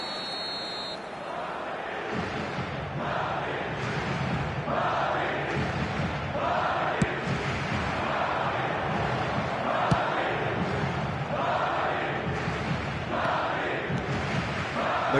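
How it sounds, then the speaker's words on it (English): Stadium crowd in a football video game roaring and chanting in steady rising-and-falling swells, with sharp whistle-like blips cutting through at intervals, continuous and moderately loud throughout. "it certainly got the crowd going"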